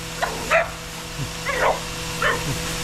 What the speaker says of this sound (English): She's gonna be barking through this whole video now.